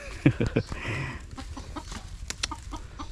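Egg-laying hens on a small farm cluck in a few quick, close bursts at the start, followed by softer scattered clucks and faint background farmyard noise.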